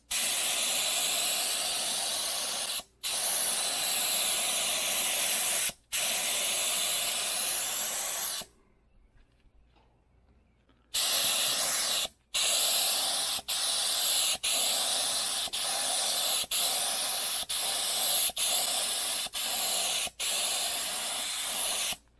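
A paint spray gun hisses loudly in long continuous bursts, a lean air-heavy mix, broken by brief pauses and one longer quiet gap, then a run of shorter, evenly spaced sprays.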